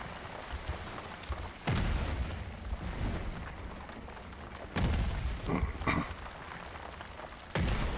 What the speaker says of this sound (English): Incoming artillery! Get clear!